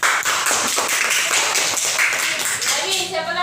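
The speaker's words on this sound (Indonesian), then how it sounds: "Untuk Aisyah, tepuk tangan." A classroom of students claps for a classmate, rapid crisp hand claps close by, sustained briefly before fading as a voice begins.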